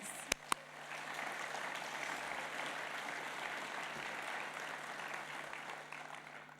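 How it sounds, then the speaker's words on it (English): An audience at the BIGGA Celebration 2024 awards night claps steadily in a sustained round of applause, a dense wash of hand claps that carries on without letting up. "a round of applause for everybody in this room"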